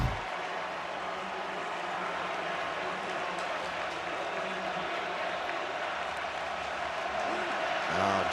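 Stadium crowd at a college football game between Michigan and Washington, a steady dense roar of cheering and noise filling the whole stretch, with a commentator's voice running underneath.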